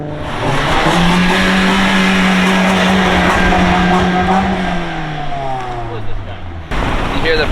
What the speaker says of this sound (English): It's a stock exhaust. It sounds like an exhaust leak.